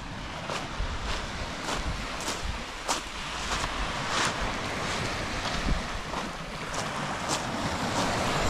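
Sea waves breaking on a stony, sandy beach in Almeria, a continuous rushing wash with repeated surges every second or so, close and loud, mixed with wind buffeting the microphone.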